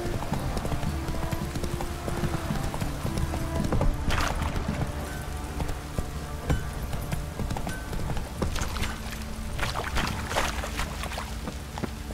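Roach, a horse in The Witcher 3, gallops in steady clip-clop hoofbeats, loud and close, with a faint whinny and low ambient rumble beneath.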